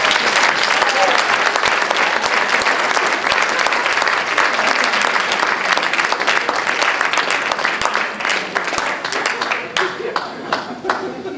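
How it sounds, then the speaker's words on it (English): Sustained, dense applause from a magic show audience, loud and close for about ten seconds before thinning into scattered claps near the end. "give Ken Dermer a nice round of applause"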